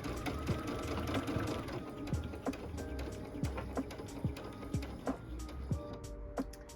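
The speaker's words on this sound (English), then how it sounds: "I'm going to stitch that corner" A sewing machine stitching around the corner of a fabric glasses case, quiet rhythmic needle clatter with sharp intermittent clicks and pauses, close-up and without speech.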